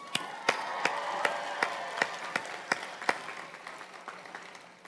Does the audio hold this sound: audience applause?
yes